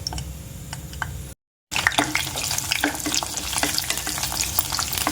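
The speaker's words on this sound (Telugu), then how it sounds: "ఇట్లా పచ్చిమిర్చి చక్కగా వేగేలాగా చూసుకోవాలి" Green chillies frying in hot oil in a pan, a close, steady crackling sizzle with sharp pops and spatters, briefly cut by a short gap, then continuing loud and busy without voices.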